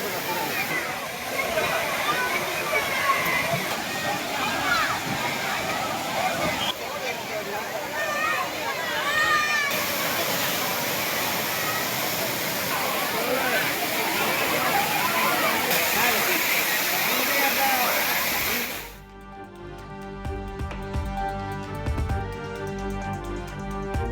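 Thirupparappu waterfall in Kanniyakumari pours in a steady roar while tourists bathe, with crowd chatter and splashing mixed into the rush until it cuts away near the end.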